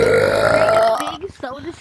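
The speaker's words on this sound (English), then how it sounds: "Burping like he's on Mountain" A long, loud, guttural burp right up close, followed by a voice talking over low rumble as the belch trails off.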